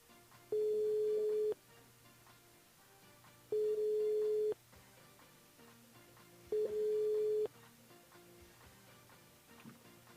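Telephone call ringing through to a French radio station switchboard: three long steady ring tones spaced about three seconds apart, clear and fairly loud over a faint low hum, with no talking.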